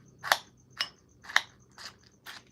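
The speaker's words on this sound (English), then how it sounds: "That's the sound of ice cream crunching." Ice cream mixed with Fruity Pebbles cereal and marshmallows crunches in five crisp, close bites spaced about half a second apart, each a sharp brittle crack, with no talking.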